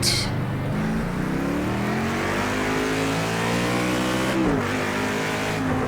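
A race car engine in Project CARS 2 at Road America roars continuously at high revs, pitch climbing through the gears with a brief dip at a shift, loud and close.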